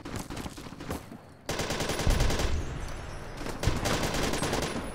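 Loud rapid automatic gunfire in Fallout: New Vegas, bursts of rattling shots with a short pause before a heavier volley and another surge, close and continuous.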